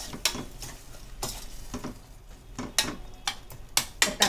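Tomatoes stirred and sautéed in a pan for an egg curry: a gentle sizzle runs throughout, broken by irregular sharp scrapes and clinks of a spoon against the pan, close and fairly quiet, with no talk.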